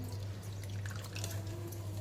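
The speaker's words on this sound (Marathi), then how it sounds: "तर हे स्वच्छ पाण्यात पिळून घ्यायचं." Grated radish is squeezed in a bowl of clean water, giving soft, close sloshing and dripping sounds over a steady low hum.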